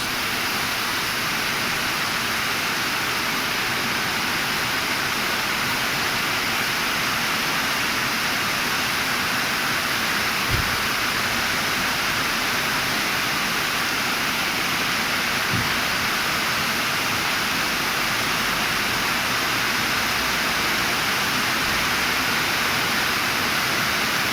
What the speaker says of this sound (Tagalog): Napakalakas ng ulan dito sa Barangay Marcalon, Calintaan, Occidental Mindoro.